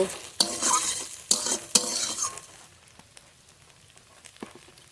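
Okra stirred and fried in a pan for a mashed okra dish: loud scraping strokes at first, fading to a soft steady sizzle with occasional light clinks, no talking.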